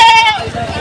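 Goats bleat at a livestock market in Padre Garcia, Batangas: a loud, wavering bleat in the first half, with crowd babble and people talking throughout.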